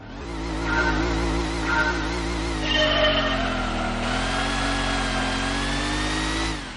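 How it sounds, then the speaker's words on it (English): A Chevrolet Camaro engine in the racing game Gran Turismo 2 gives a steady, buzzing whine with stacked tones that rise and fall slightly, sounding much like a vacuum cleaner running close and loud. "There are a few cars with rather odd engine noises, however, like the Camaro, which sounds like a vacuum cleaner."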